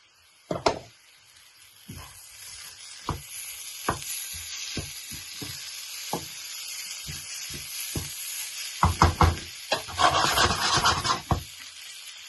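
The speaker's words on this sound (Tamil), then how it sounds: "இவரை இதுக்குள்ள கொட்டி கொஞ்சத்தை கணக்கா பிரட்டுவோம்" Kothu puttu with dried masi karuvadu fish being tossed in a pan, with sharp scraping knocks of a utensil at irregular intervals over a low sizzle, and a denser rustling burst of tossing near the end.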